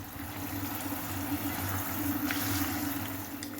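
Water running steadily from a tap to make salted water for soaking oyster mushrooms, a continuous rushing hiss with a low hum underneath, moderately quiet.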